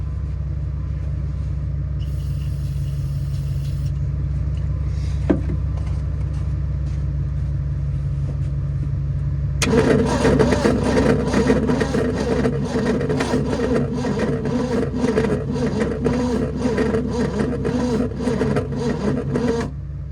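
A 1970 Ford Maverick's starter cranks its engine in the snow, a steady low grinding churn that grows louder and denser partway through and keeps a rapid rhythmic chatter going to the end, with no voices.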